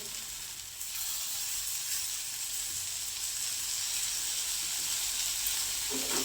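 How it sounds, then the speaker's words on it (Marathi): Bitter gourd chutney with jaggery sizzles steadily in a pan over low gas, a soft, continuous frying hiss that starts after a brief pause and carries on evenly, close and alone. "आता हे कमी गॅसवरती परतून घ्यायचं आहे"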